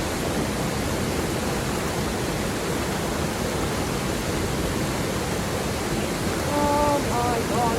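A brook in the North Maine Woods rushes steadily in a dense, broadband hiss, loud and close throughout, with a faint brief tone near the end.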